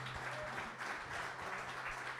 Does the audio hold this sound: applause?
yes